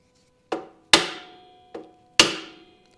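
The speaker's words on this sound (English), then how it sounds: "I'm going to use aluminum driver." Hammer blows on an aluminum driver seat a bushing for a 1980 Suzuki RM rear brake pedal: four sharp metallic strikes, alternating lighter and heavier, each ringing briefly in a quiet workshop.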